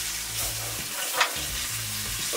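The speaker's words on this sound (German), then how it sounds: "Wenn die Haxen auf der einen Seite schön angebraten sind" Veal shanks sear on a gas grill for an Irish-style ossobuco, giving a dense, continuous close-up sizzle and crackle with a brief sharper pop near the middle and no talking.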